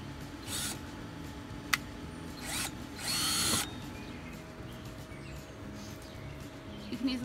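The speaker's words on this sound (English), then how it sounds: "starting with your small hole saw, you're going to do a 1-inch hole here and here" A small hole saw cuts a 1-inch hole into a plastic rain barrel in a few short, whining drill bursts with quiet pauses between.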